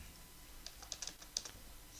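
Someone types on a computer keyboard with quiet, irregular key clicks, a few sharper taps standing out against a steady background hiss.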